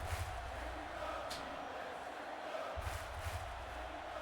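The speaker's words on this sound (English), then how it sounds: "This crowd screaming and chanting." Crowd screaming and chanting at a Hamilton Rollers home football game against the Toronto Trash Pandas, a broad, steady roar of many voices filling the whole stretch, with louder surges near the start and end.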